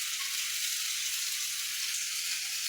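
French toast cooking in a pan for breakfast, giving a steady, even, high-pitched sizzle that holds constant and close throughout without talk.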